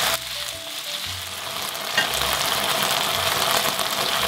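Beef frying on high heat for Chinese beef chow mein, a loud continuous hissing sizzle close up, growing slightly stronger and holding steady with no talk.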